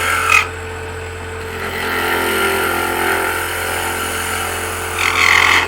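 A power tool grinds away excess wood to rough out the shape of a wooden mushroom. It is a steady, close, moderately loud whir, with brief harsher bursts at the start and near the end.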